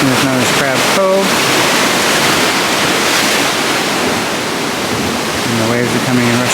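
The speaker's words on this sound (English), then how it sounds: "the waves are coming and rushing pretty good along the rocks" Ocean waves rush and crash along the rocks at Crab Cove near Hilo, Hawaii, a loud continuous roar of surf, with a person briefly talking at the start and again near the end.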